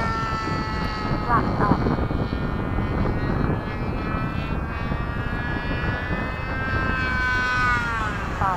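F-15 chasing an Ugly Stick aircraft at LFE, heard as a continuous engine whine whose pitch slowly bends and rises over a broad rushing roar, with voices talking over it.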